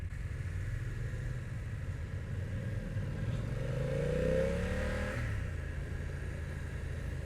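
A BMW F 900 R motorcycle engine runs steadily while riding, a continuous mid-pitched drone that swells briefly as it revs up and then settles, with no voices.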